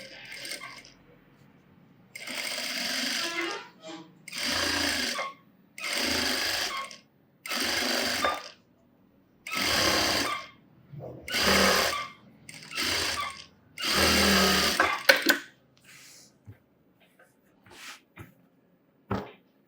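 A sewing machine stitches the edge of a blouse puff sleeve in a series of about eight short, steady whirring runs separated by pauses, ending with a few faint clicks.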